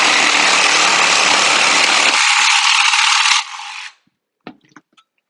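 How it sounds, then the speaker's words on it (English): A power tool whirs loudly and steadily while cutting off a suitcase trolley wheel, its pitch dropping partway before it winds down to silence, followed by a few light clinks of loose parts. "I had to resort to a power tool."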